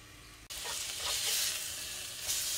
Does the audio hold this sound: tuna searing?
yes